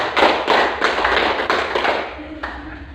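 A classroom of students claps in a quick, steady rhythmic counting pattern, with loud, dense hand strikes running close together for most of the span before fading out.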